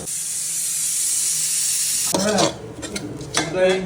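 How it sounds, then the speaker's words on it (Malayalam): Grated coconut with fennel seeds, curry leaves and shallots sizzles and hisses in a small pan, then a spoon scrapes and stirs it in close, uneven strokes. "തേങ്ങ വറക്കണതാ ഇത്"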